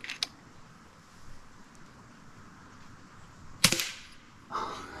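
An FX Impact air rifle magazine is cycled, giving a few sharp, brief mechanical clicks and snaps, spaced apart and close-up against a quiet background.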